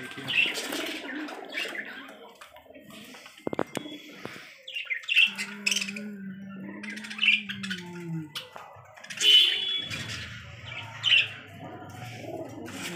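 Punjabi pigeons in a pigeon shop in Azamgarh give scattered squawks, chirps and low coos in irregular bursts, with a voice speaking at times in the background.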